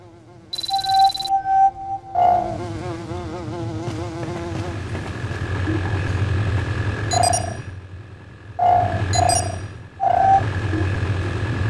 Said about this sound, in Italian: Le mosche sono ingiustamente disprezzate.